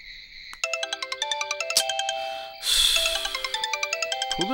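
A phone ringtone plays a bright electronic melody of quick repeated notes during a Tamil comedy serial scene, loud and close, with the tune briefly interrupted before resuming and no talking over it.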